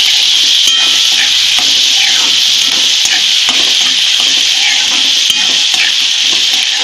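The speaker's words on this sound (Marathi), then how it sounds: "तर टोमॅटो टाकून घेऊया, एक कट करून घेतलेलं। थोडीशीच कोथिंबीर टाकायची आपण, हे भाजून घ्यायचं चांगलं।" Chopped tomato and coriander leaves frying in a pan for a dried Bombay duck masala, a loud, continuous close sizzle with occasional scrapes of stirring and no talk.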